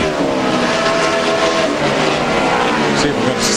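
Engines of NASCAR trucks at the 2005 O'Reilly 200 race drone loudly and steadily, a continuous racing roar that a commentator talks over.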